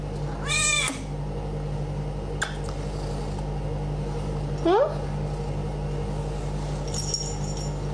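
A cat meows twice, once early and once midway, close by over a low steady background hum with faint clinks.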